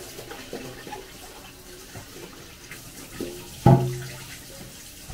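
Water running steadily from a tap into a sink while vegetables and salt are rinsed for red snapper sinigang, a continuous close rush with a brief louder splash near the end.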